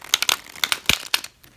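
A gilt-edged tarot card deck is shuffled close up, giving crisp papery riffles and flicks in quick, uneven bursts that fade out at the end.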